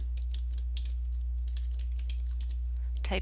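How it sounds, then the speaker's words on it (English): Someone types on a computer keyboard, a quick run of close, crisp key clicks over a steady low hum, ending in a slightly louder cluster of strokes. "So the first thing you're going to do is click Terrain and type in"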